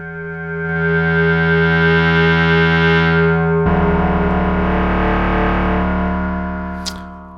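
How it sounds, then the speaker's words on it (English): A digital synthesizer tone runs through a saturation stage, producing a loud, buzzy, harmonically rich distorted drone that shifts to a grittier timbre midway before fading, with a brief high blip near the end. "Next, we have a saturation stage, which gives you some distortion."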